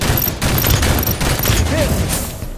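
Loud, close burst of overlapping gunfire in the Halo 5 beta, Slayer match on the map Regret, a dense continuous volley with sharp cracks.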